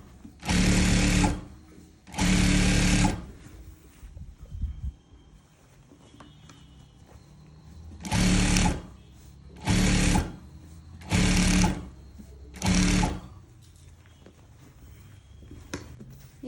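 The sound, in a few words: sewing machine stitching a gown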